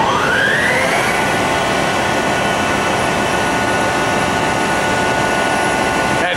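A Milltronic HBM 4 CNC table-type horizontal boring mill, new 2010, with its spindle running at 1,000 RPM: a whine rises briefly, then settles into a loud, steady, unbroken machine drone with no talking.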